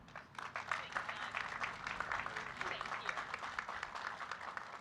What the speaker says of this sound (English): we need a big round of applause for her